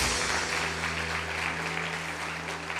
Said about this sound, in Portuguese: Você pode dar uma salva de palmas a Jesus